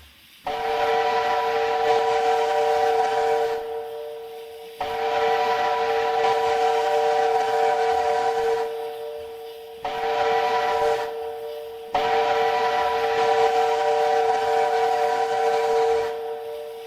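A Chinese five-chime steam locomotive whistle, likely from a QJ class engine in the Trainz railway game, sounds in three long chord-like blasts with short gaps. Each blast is loud and close, with no talk over it.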